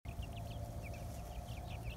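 Baby chicks cheep in soft repeated bursts, close by, over a steady low background hum.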